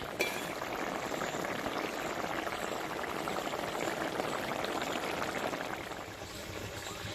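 Bhola river fish curry simmers in a pot, a steady close bubbling and hissing that carries on evenly throughout, with a faint clink near the start.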